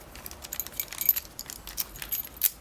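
Keys jangling and scraping as they go into a Carbine euro cylinder lock, a close metallic clatter of small clicks and rattles throughout.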